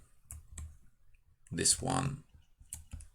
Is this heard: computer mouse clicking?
yes